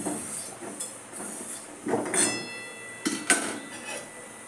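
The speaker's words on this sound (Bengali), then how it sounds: "একটু ভালো করে ধুয়ে নিই কড়াইটা" A metal wok (kadai) being washed, with light clinks and scraping knocks of metal against metal and faint water noise, a few louder bumps near the middle, no one talking.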